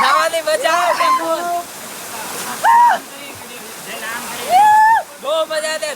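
A jungle waterfall rushes in a steady, broad wash of falling water where a family is bathing. Several people talk and call out loudly over it throughout.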